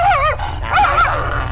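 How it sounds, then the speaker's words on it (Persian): Frightened dog giving two loud, close, high-pitched yelping barks with a whiny, whimpering edge, one right after the other. "سگی ترسید از این."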